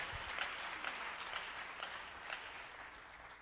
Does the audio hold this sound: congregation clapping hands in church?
yes